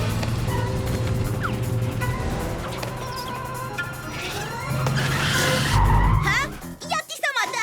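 Cartoon vehicle skidding to a stop, a burst of tire-squeal and braking noise near the end, rising over busy animated music and effects with voices speaking throughout.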